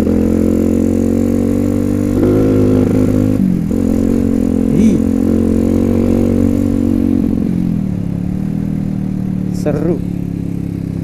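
Honda CRF 150L motorcycle fitted with a Norifumi aftermarket exhaust, ridden on a rough trail, giving a steady loud mid-pitched engine drone with small pitch shifts as the throttle changes, and a voice talking over it.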